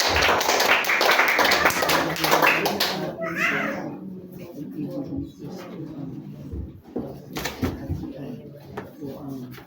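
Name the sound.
congregation clapping for God in a church service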